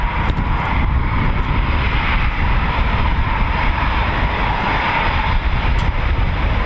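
Eurofighter Typhoon and F-16 jets during a Cobra Warrior exercise at RAF Waddington, a loud sustained engine roar with a broad rumble, steady throughout.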